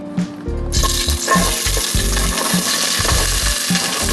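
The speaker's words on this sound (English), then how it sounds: "now you're going to want to add your onion, which will be about 1 large onion" A large onion drops into hot oil and breaks into a loud, bright sizzle that carries on while a spoon stirs with quick, repeated scraping knocks.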